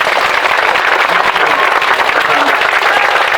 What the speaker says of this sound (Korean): 뜨거운 박수 다시.